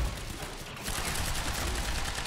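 Gunfire in the action video game Quantum Break, a dense, noisy barrage of shots that dips briefly, then resumes at steady loudness for the rest of the moment, with no voice over it.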